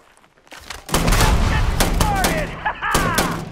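Rapid gunfire and explosions from a firefight in the video game Starfield, loud and continuous with dense overlapping shots, a grenade launcher in play.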